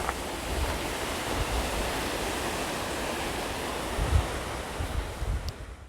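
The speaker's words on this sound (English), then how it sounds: "we've still got the wind which is churning those waves up onto the beach there" Wind-driven waves churn onto a beach on the Highland coast of Scotland between Golspie and Dunrobin Castle. A continuous roar of surf mixes with gusty wind buffeting the microphone, rising briefly near the end, and no one speaks.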